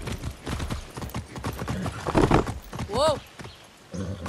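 Horse hooves clip-clopping in the video game Far Cry 6, a steady close rhythm of hoofbeats with a brief whinny near the end, under a voice talking.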